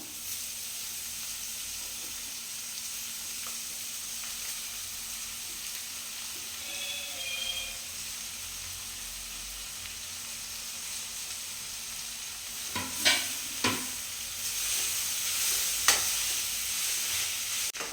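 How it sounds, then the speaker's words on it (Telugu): Bottle gourd peel frying with green chilli paste in a pan, a faint low sizzle with a few brief stirring scrapes near the end, close by and quiet, no voices. "పచ్చిమిర్చి పేస్ట్ మొత్తం బాగా ఫ్రై అయింది కదండి. ఇప్పుడు మనం ఇందులోకి ముందే పీల్ చేసుకున్నాం కదండి సొరకాయ పొట్టు వేసుకుందాం"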